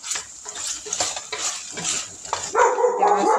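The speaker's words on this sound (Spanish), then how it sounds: "La perra ladra." A female dog barks in a home where sausage and potatoes are being cooked, giving several sharp barks over a steady sizzle of frying and kitchen clatter.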